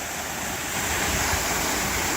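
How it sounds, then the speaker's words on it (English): A waterfall swollen by heavy rain roars as a continuous broadband rush, steady and fairly loud, with some wind-like buffeting and no talking. "we've got a really nice waterfall going."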